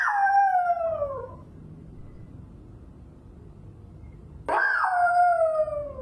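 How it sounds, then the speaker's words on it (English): A puppy howls twice, long wavering high-pitched cries separated by a few seconds of quiet, close and clear. "Oh, that's the dog."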